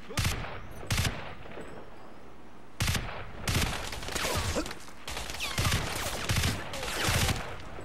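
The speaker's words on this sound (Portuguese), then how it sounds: "Cara, olha o som do tiro do jogo, cara." Bursts of gunfire in the video game Crysis, several sharp volleys and rapid shots in quick succession, loud and close, with short quiet gaps between them.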